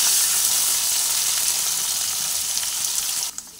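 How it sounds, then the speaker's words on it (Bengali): Potatoes frying in hot oil in a pan for a cucumber curry, with a loud, dense, continuous sizzle up close that cuts off abruptly near the end. "এগুলোকে দিয়ে আলুগুলো একটু ভেজে নিচ্ছি।"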